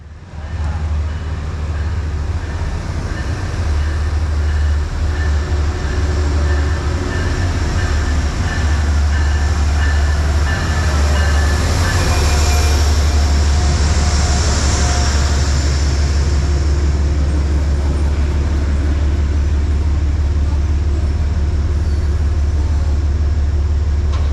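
A New Haven P32 ACDM diesel locomotive leading a commuter train rumbles steadily into Merritt 7 station, a continuous loud low drone with wheel and brake noise rising toward the middle.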